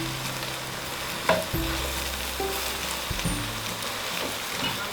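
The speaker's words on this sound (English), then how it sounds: "See, I'm stirring the whole thing together. My vegetables and the yam." Yam and green vegetables being stirred in a hot pan, a steady soft sizzle with occasional scraping and stirring knocks, close and continuous.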